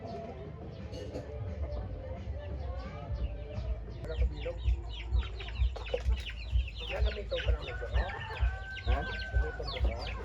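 Chickens on a small farm cluck and call close by, with scattered bird chirps and a low rhythmic thumping underneath; a person briefly speaks once amid the fowl noises.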